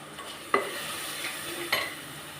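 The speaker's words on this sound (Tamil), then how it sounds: "தக்காளியும் போட்டு வதக்கிக்கிடலாம்" Tomatoes sauté with chilli powder in a pan for a home-cooked lunch, a soft steady sizzle broken by two brief scraping stirs, close and quiet with no talking.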